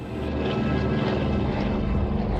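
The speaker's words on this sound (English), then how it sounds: "the greatest gathering of Dakotas on British soil since 1945, all here to mark the D-Day anniversary." Dakota historic military transport plane gathered for a D-Day anniversary, heard as a loud, continuous propeller engine roar that holds steady throughout with no talk.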